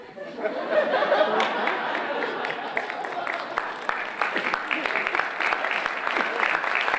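Audience applause at a municipal mayoral election forum, many hands clapping in a sustained, fairly loud burst that swells after a quiet start, mixed with crowd chatter and a few chuckles.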